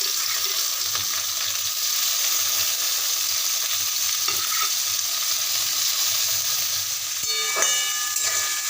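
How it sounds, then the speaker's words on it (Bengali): Onion, carrot and capsicum fry in hot oil in a kadai with a steady, close sizzle and hiss, broken by a few scraping stirs near the end. "সবজিগুলোকে প্রথমে আমরা ভেজে নেব।"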